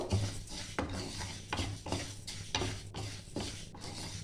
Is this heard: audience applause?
no